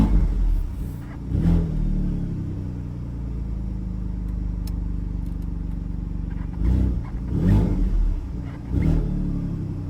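A 2018 Alfa Romeo Stelvio Quadrifoglio sits idling on a cold start, its low engine rumble steady before several sharp throttle blips rise and fall, loud and close.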